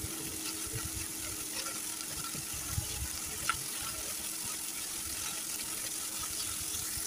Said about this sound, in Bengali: তো মশলাটাকে কিছুক্ষণ নেড়ে চেড়ে কষিয়ে নেব আমি।